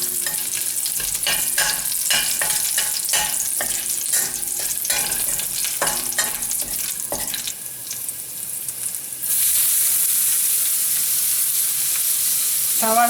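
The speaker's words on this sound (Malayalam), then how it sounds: "ഇനി ബാക്കി വരുന്ന എണ്ണയിലേക്ക് നമുക്ക് ഈ പച്ചക്കറികളെല്ലാം വഴറ്റിയെടുക്കാം." Garlic and vegetables sauté in leftover oil for chicken stroganoff with broccoli, with loud crackling sizzle and repeated stirring clatters, then a steadier hiss as more goes into the pan.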